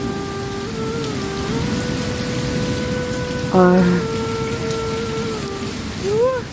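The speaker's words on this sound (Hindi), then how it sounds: "आज हल्की बारिश है" Light rain falls steadily, a soft constant hiss and patter, while a voice sings or speaks in drawn-out tones above it.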